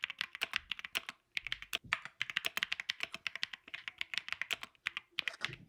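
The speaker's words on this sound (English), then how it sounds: "The Q1 Max is a pleasure to type on, and I love how it sounds when typing on this keyboard." Typing on a Keychron Q1 Max mechanical keyboard, with rapid, close, clicky keystrokes in quick bursts and a couple of short pauses, alone in a quiet room.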